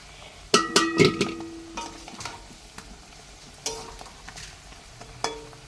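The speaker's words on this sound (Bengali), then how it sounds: "এই দেখো কি সুন্দর করে গোকুলের জন্য ভাজা হচ্ছে" Pea and potato kachoris fry in oil with a faint, low sizzle, punctuated by sharp metallic clinks and clangs of a utensil against the pan, loudest early on.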